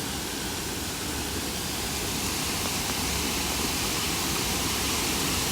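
Water careering down a rocky waterfall at Goit Stock, a dense, steady broadband roar close by, filling the whole clip without pause.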